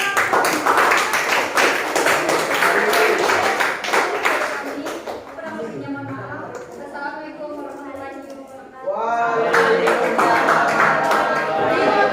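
A group claps together in a classroom-style session, a quick crackle of many hands that breaks off into a stretch of talking and then resumes loudly.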